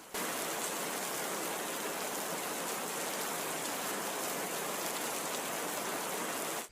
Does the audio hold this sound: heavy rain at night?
yes